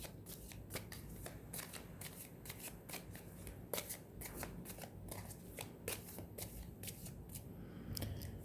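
Tarot cards are shuffled by hand in a quiet room, a quick run of crisp riffling snaps and flutters repeating irregularly, close and soft.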